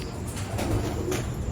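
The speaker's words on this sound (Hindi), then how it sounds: "कबूतर देखें माशाल्लाह, बड़े प्यारे कबूतर हैं दोस्तों" Pigeons coo in a loft or coop, soft throaty murmurs blending together close by over a constant background rumble.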